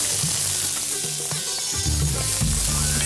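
Onion hits hot oil in a pan during curry cooking and sizzles loudly and steadily, a dense frying hiss with faint stirring clinks underneath.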